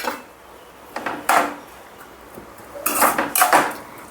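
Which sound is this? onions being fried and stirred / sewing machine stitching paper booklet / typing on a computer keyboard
onions being fried and stirred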